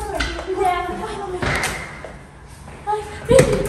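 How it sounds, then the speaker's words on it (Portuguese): A door is slammed shut with heavy thuds and a sliding clatter, followed by another sharp knock, all under urgent, overlapping voices close by. "Fecha a porta. Fecha a porta. Tranca."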